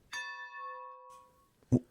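Train engine bells ringing from a roundhouse, a single clear bell strike with a long ringing decay, faint and distant, followed by a brief soft knock.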